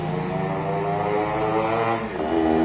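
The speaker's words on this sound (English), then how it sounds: "He goes from here every day with that bike, heavy sound." A heavy motorbike engine drones steadily and loudly as it rolls past close by, a dense low rumble with rich harmonics and no voices over it.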